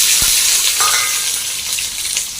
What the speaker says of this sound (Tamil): இப்போது வெங்காயம் போட்டுடலாம் பத்து மிளகாய் இஞ்சி போட்டுடலாம்